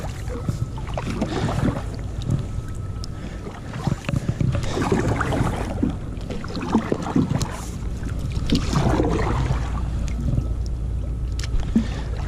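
An Ascend 12T kayak sits out on the water, with soft paddle splashes, hull knocks and water lapping near the microphone, plus some wind noise.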